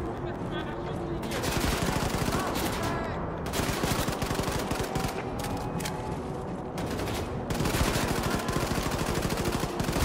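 Rapid gunfire in the video game Wolfenstein 2: The New Colossus, with repeated automatic bursts and shots rattling steadily over noisy combat sound throughout.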